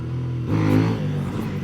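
A CFMoto 800NK motorcycle engine revs up hard during a wheelie, a steady drone swelling briefly into a louder rising pull before settling, close and unaccompanied by voices.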